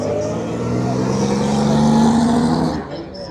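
A classic Alfa Romeo straight-six at a hillclimb festival pulls away hard, its engine note rising in pitch as it accelerates, then dropping off sharply as it moves away, with a voice talking over it.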